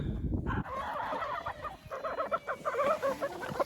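Backyard hens are clucking and murmuring close by in a steady, busy chorus of short, overlapping calls, with no talk over them.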